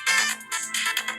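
A video game phone ringtone plays in a short melodic burst of bright electronic tones, repeating in quick phrases, clear and close with no talking.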